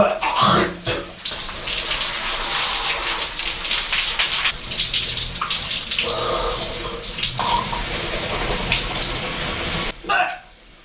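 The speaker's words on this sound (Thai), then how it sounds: "โอเคอาบน้ำแป๊บเดียวแหละ" Shower water running steadily with a close hiss and splashes, changing slightly in places as the spray is interrupted, with brief voice sounds and no clear talk.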